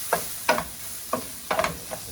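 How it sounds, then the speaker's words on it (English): Orzo pasta being stirred in a pot with mushrooms, onion, garlic, olive oil and butter, giving a few separate scraping, swishing strokes at a steady unhurried pace, fairly close, with a soft sizzle underneath and no talk. "mix it nicely with the onion, garlic, mushroom and olive oil and butter mixture"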